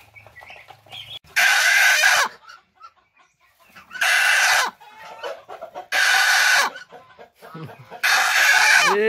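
Chickens squawk in four loud, harsh bursts about two seconds apart, separated by quieter clucking and rustling, in a bird-keeping setting with chicks nearby.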